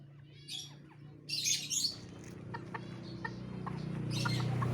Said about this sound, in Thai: ไก่เจ้สีขาวล้วนนะครับ หนุ่มสาวว่าที่พ่อแม่พันธุ์